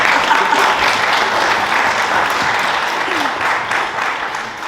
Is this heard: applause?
yes